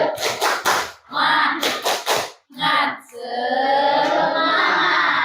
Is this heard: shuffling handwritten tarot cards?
no